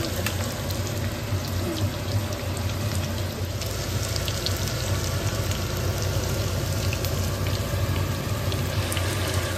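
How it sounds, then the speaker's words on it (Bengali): Fish dropped into hot oil in a home kitchen, a continuous dense sizzle and crackle of frying with scattered pops, steady and close with no talk. "এবার মাছগুলো ছেড়ে দেবো।"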